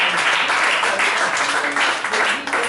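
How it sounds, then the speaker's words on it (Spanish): A church congregation claps together during a Saturday sermon, a dense, steady wash of applause that stays loud and even for the full few seconds. "Den un aplauso a Dios este sábado"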